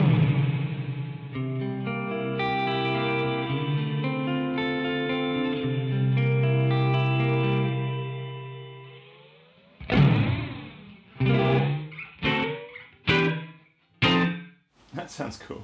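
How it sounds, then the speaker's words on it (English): Guitar tones run through a Chase Bliss Mood pedal's reverb effect, first a long sustained chord washing out with a spacious tail, then a series of separate plucked strums each ringing into reverberant decay, with no talking. "what's that? Reverb."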